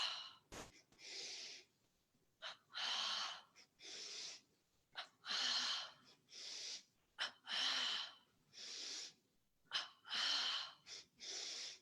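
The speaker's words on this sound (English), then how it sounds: "Let's do the double breathing." A double breathing exercise in a group warm-up: paired sharp inhales and exhales repeat in a steady pattern, close and fairly loud, with brief pauses between bursts.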